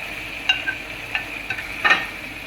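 Macaroni masala with chopped capsicum being stirred in a pan, giving a few soft scraping strokes over a steady low sizzle, close and quiet with no talking.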